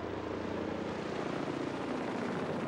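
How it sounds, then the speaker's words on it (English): Helicopter flying past in stormy weather, a loud continuous rotor and engine drone with a rapid throbbing beat that stays steady and close for the whole stretch. "The chopper changes course."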